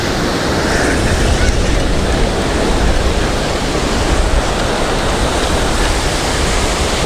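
Ocean surf breaking steadily at Muriwai during a fishing outing, a continuous loud broadband roar with no distinct gaps, mixed with some wind noise, and no voices.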